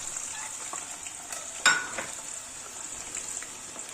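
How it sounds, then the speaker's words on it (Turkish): Potatoes sizzle and crackle steadily in hot oil, with one sharper splash-like burst partway through, close and fairly loud, no voices. "Şimdi tuzlamış olduğum patatesleri ısınmış olan yağımın içerisine aktarıyorum."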